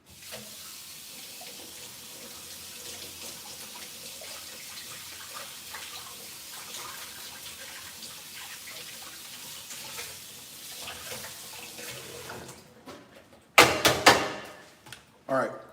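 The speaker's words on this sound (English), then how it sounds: "I found something. Let me rinse it off." Kitchen tap water runs steadily into a sink as something is rinsed off while cooking soul food meatloaf, a continuous moderate splash for most of the stretch, ending in a few louder bursts and clatters near the end.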